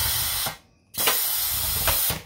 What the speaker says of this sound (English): And knock in my grommet washer.